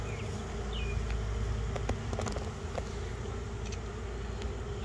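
Honeybees hum in a steady, dense drone at an open hive on a farm, near and continuous, with light clicks and rustling as frames are handled, and no voices.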